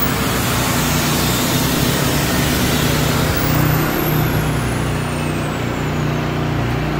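A ProQuip QRV4000 silent inverter generator runs under a load test, giving a loud, steady, close-up broadband drone that holds evenly throughout with no pauses.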